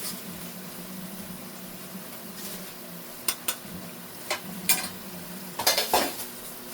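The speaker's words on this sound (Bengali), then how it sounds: "মশলাটা সুন্দর করে কষিয়ে নিব" Cumin, coriander and turmeric powder masala frying in a pan with a low steady sizzle, broken by several sharp scrapes and clinks of stirring that grow busier toward the end.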